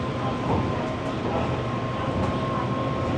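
A monorail train pulls into a nearby elevated station in Bangkok, a loud continuous rumble and rolling roar with a faint steady whine riding above it, close by and unbroken.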